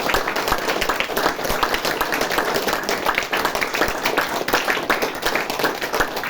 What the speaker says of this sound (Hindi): अरे तालियां बजा दी दो, चलो